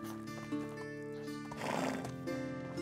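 A horse whinnies in a shrill, wavering neigh in the survival city-builder game Medieval Dynasty. It sits over a bed of soft medieval music, with a faint clip-clop of hooves underneath.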